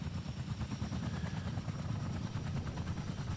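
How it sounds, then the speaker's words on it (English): A helicopter in the video game Fortnite makes a steady, loud rotor chop with a continuous low rumble, its rapid rhythmic thumping filling the whole stretch without talk. "Oh yeah, choppers are back,"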